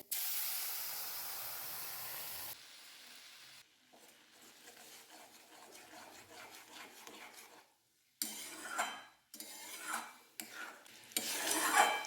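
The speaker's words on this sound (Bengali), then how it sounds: "এবারে কামরাঙার জুসটা দিয়ে দিচ্ছি তেলের মধ্যে।" Star fruit juice poured into hot oil with fried dried red chillies and mustard seeds hisses and sizzles loudly, then quieter crackling follows, with bursts of stirring and renewed sizzle toward the end.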